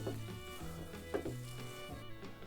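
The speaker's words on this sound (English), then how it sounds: "put a little bit of borax on the alloy to begin with. Mix this stuff up good" Borax flux is stirred into a pot of molten lead alloy, a soft sizzle and crackle with scraping stir strokes, fairly quiet and close.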